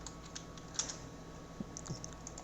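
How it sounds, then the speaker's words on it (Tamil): Typing on a computer keyboard while filling in an invoice in Excel, quiet scattered key clicks with a few sharper taps over a faint steady hum. "ஓகே, இப்போ நம்ம டைப் பண்ணதெல்லாம் முடிச்சிட்டோம்."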